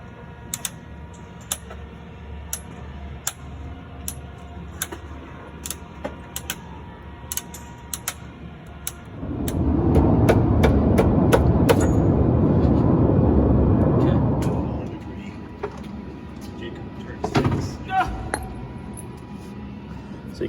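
A Cessna's axle pops where it attaches to the strut, producing sharp, regular clicking pops under a steady low hum, with a louder rumbling swell midway and a few scattered knocks afterward.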